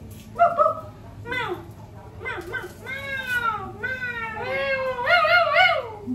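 A person's voice imitates a dog-cat hybrid animal, mixing a string of rising and falling meow-like wails with barky yelps, loud and close in a home kitchen.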